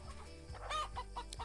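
A small flock of RIR layer hens, about a hundred kept by a backyard keeper, cluck quietly in a few short, clipped bursts, fairly faint and with no talk.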